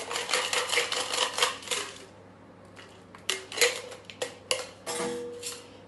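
Cocktail tin clatter with ice rattling and metal clinks as an apple pie fizz with cider and aquafaba is double strained from the shaker back into the tin, a flurry of bright taps followed by a short pause and then sharp intermittent knocks.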